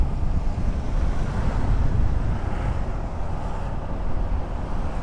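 Rushing river water in the mountain country of Nueva Vizcaya, a loud unbroken roar of churning flow with no voices.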